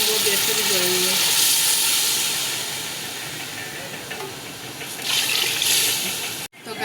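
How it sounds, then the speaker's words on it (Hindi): Water for chicken pulao boils in a cooking pot with a steady, loud hiss and bubbling that swells and fades slightly, with no voices over it. "ये देखिए पानी उबल रहा है"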